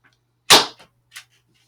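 A pullback-action toy gun fires once with a sharp snap, followed by a couple of faint clicks, close by in a quiet room.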